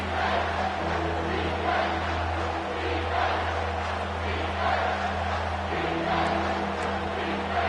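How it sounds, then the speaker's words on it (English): In an NCAA college football video game, Ohio State against Arkansas, a stadium crowd roars steadily in a dense, continuous wash with a low droning undertone, fairly distant and with no speech on top. "this crowd will blow out a vocal cord to help this defense"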